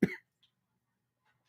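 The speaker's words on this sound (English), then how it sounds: "I don't mean to like cough into the mic" A single short, sharp cough right into a microphone, loud and close, followed by near silence.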